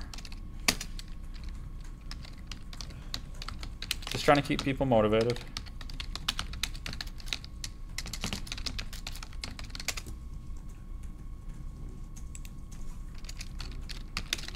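Computer keyboard typing during a Haskell programming class, a steady run of quick clicks and key taps over room tone, with a brief stretch of speech partway through.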